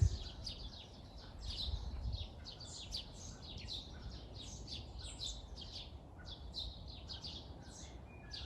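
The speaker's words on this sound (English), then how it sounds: "There's a little greenfinch down there," A greenfinch chirps again and again in an English country garden beside a pond: light, quick, high calls spread across the whole stretch over a steady outdoor hiss, moderately close and fairly soft.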